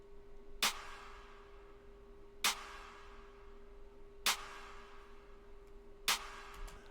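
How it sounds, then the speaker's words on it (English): Four sharp clap samples layered with a snare, at a steady slow pace, each bright with a lingering decay, over a faint background hum. "I layered the clap with a snare."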